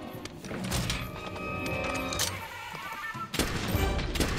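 Gunfire in Monster Hunter World rings out over a dense game soundscape, with one sharp shot early and another cluster of loud blasts near the end amid a busy hum.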